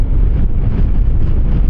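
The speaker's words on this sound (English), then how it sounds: "That wind is ripping pretty good." Strong wind buffets the microphone while riding a Yamaha Xmax 300 scooter across open fields, a loud, continuous low roar with no talking.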